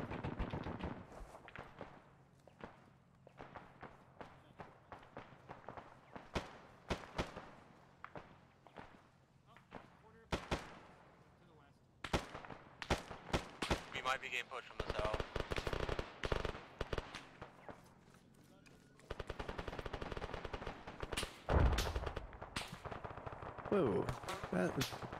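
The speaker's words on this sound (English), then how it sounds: "Taking accurate fire from the west. I've been shot." Gunfire in a multiplayer tactical shooter game, with scattered single shots early, then denser bursts of rapid fire and impacts, loud and close at times, with players talking over it.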